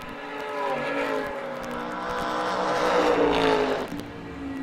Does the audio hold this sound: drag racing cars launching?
yes